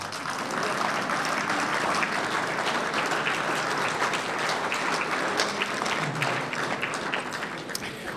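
Sustained, dense audience applause at an Easter Monday fraternity gathering fills the room steadily with many hands clapping at once, loud and continuous throughout.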